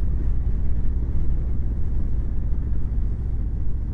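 Deep, steady rumbling engine of a 2019 Indian Chieftain motorcycle fitted with Stage II cams, held at high revs with a thick, even drone up close, no speech over it.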